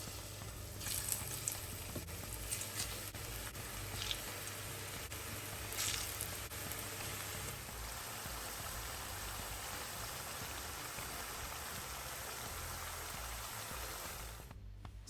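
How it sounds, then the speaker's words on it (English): Hot oil bubbling and sizzling vigorously around a wooden spoon while plantains fry, a steady dense crackle with no talk, quieter toward the end. "when you see the vigorous bubbles, it's ready"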